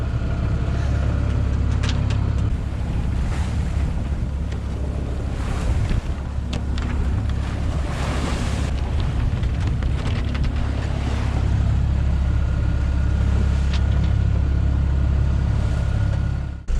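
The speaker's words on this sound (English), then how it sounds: "we've got about 13 knots of wind, we're cutting into it, and with the engine on" Sailboat motoring with its engine on into about 13 knots of wind in the Gulf Stream on a crossing from Canada to Bermuda: loud constant wind buffeting the microphone over a low engine drone and rushing waves, no speech.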